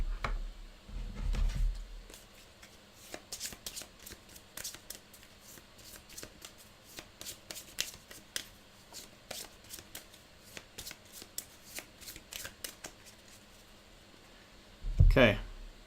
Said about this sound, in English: and then shuffle them back into the action deck.